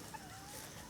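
A farm chicken, an old hen, gives a faint, soft cluck or two over a steady background hiss, fairly distant and brief.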